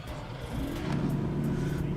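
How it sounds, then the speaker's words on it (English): Bentley GTC race car engine in Assetto Corsa, on the Hungaroring circuit, rumbling up from a low idle to a steady, loud, continuous drone with no voices. "Engine starts."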